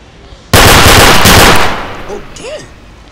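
Loud burst of rapid gunfire in the game Industry RP 3, a dense sustained volley for about a second that fades into a noisy tail with faint chirping tones afterward.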